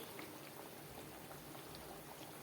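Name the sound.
biscuits frying on low gas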